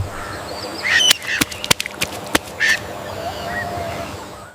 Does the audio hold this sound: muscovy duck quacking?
yes